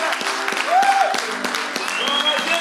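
Applause and cheering from a church congregation, a dense, steady wash of clapping mixed with shouts and voices throughout.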